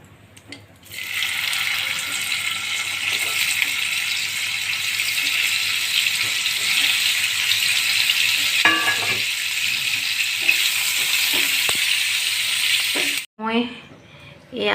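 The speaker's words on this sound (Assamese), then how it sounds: "পনীৰকণো ভাজি ল'ম।" Paneer pieces fry in hot oil with a loud, continuous hiss and crackle for most of the stretch; it cuts off abruptly and someone speaks at the end.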